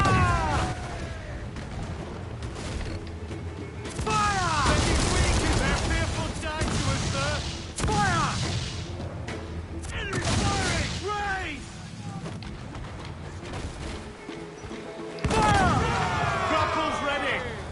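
Ship cannons firing in Assassin's Creed IV Black Flag, heavy booming volleys in several loud bursts over roughly eighteen seconds, mixed with crew voices and naval battle noise.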